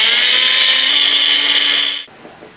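A kitchen blender whirs loudly and steadily, pureeing chopped watermelon with ground cardamom, then cuts off abruptly near the end, leaving a quiet room.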